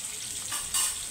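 Pointed gourd pieces fry in hot oil in a wok, giving a close, steady sizzle with a brief louder crackle near the end and no talking.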